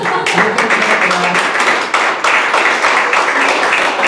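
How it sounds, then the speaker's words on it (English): An audience applauds Linda at a live magic show, dense steady clapping that fills the room loudly and evenly for the whole stretch. "A round of applause for Linda."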